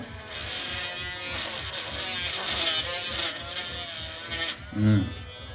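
A mini electric drill bores into bonsai wood, whirring steadily with a high, buzzing motor tone for several seconds. Its pitch wavers slightly, and it ends with a short louder burst.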